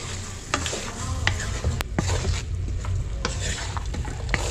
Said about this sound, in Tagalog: Hahaluin ko po itong aking sinasangkutsa.